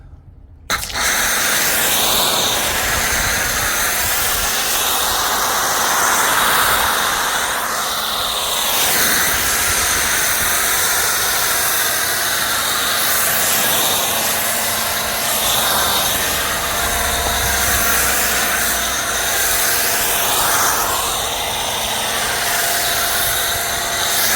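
A foam cannon sprays thick foam over a 2016 Mercedes-Benz AMG E63s, a loud, steady pressurized hiss and whoosh that begins abruptly and runs continuously, up close.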